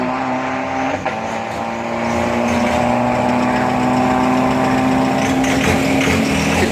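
A Toyota Revo turbo 3000 pickup with a stock fuel system on a 402 m drag strip at Khlong 5, its engine droning loud and steady as it pulls through the run, heard from nearby without talk.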